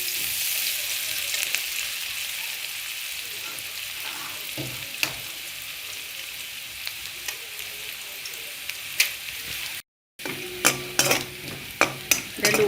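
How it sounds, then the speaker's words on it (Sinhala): Onions frying in a pan while making pasta, a steady close sizzle with occasional sharp clinks and stirring scrapes toward the end, no voices. "දැන් ලුණු ටික හොඳට බැදිලා තියෙන්නේ රන්වන් පාටට."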